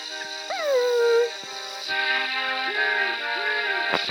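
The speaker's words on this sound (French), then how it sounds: "Au revoir le chien." In the video game Mother 3, a dog gives a rising, whimpering howl followed by softer whines and yips over steady game music, with no talking during the sounds.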